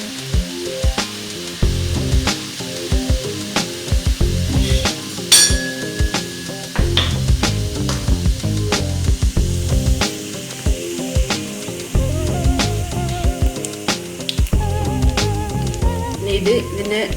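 Homemade Kerala-style mixture frying in hot oil gives a steady sizzle, broken by repeated clinks and scrapes of a utensil stirring in the pan, with a brief spray of hiss partway through.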